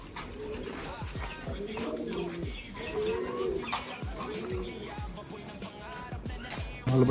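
Pigeons coo at a pigeon loft in Bamban, Tarlac, with several soft, throaty, rolling calls repeating throughout at moderate distance, some overlapping.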